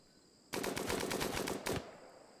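Automatic gunfire in the video game Rimworld, aimed at a rat, comes as one rapid burst of about a second and a quarter after a quiet start. The shots are loud and close, and no voices are heard.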